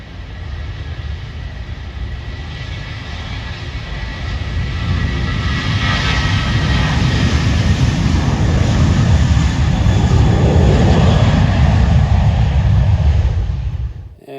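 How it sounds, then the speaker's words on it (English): Propeller airliner taking off from Cocos Keeling airport, a loud rumbling engine roar heard from right beside the runway that swells after a few seconds and stays strong before cutting off abruptly, with no talking. "right next to the airport there's a plane about to take off"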